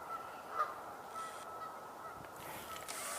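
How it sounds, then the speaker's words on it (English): Geese honk faintly in the distance near a parking lot, a brief call or two standing out over a steady outdoor hiss. "I hear more geese. They sound like they're close to the parking lot."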